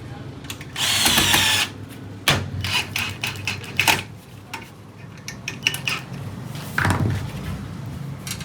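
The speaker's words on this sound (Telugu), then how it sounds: "దీనిలోకి ఇలా స్క్రూ పెట్టేసి టైట్ చేసేసుకోవాలి." Screw being driven into an aluminium bathroom door frame, with short bursts of whirring drill and metallic rattling and scraping in between, close and fairly loud.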